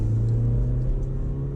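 A 1997 Honda Civic EK hatchback pulls at full throttle, its engine a steady low droning rumble, loud and continuous from inside the car with no talk.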